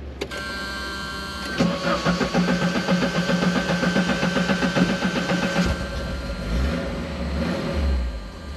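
A 1986 Alfa Romeo Spider Graduate engine cranks briefly, catches and starts, then runs at an uneven, slightly hesitant warm idle with small revs, close by.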